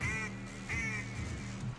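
Two nasal duck quacks from a video game, close and clear, spaced a little over half a second apart against a steady low game background.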